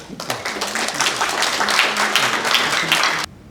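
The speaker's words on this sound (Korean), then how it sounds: "우리 박수로 크게." A crowd at a university alumni association general meeting claps loudly in dense, sustained applause that stops abruptly at the end.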